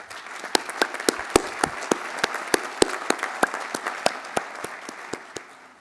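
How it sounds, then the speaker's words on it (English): A crowd applauds graduates at a university commencement ceremony, with dense clapping and sharp individual claps standing out in an irregular rhythm, sustained and fairly loud before fading at the end. "by giving them a round of applause."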